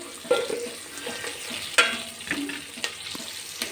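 Onions frying in a pan for pulao, browning with a soft steady sizzle and occasional stirring scrapes and clinks, close and alone without talk.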